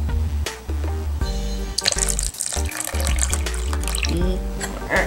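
Borax solution poured into a bowl while making Halloween ghost slime, a continuous splashing, gurgling pour of liquid with some bright clinks and no talk.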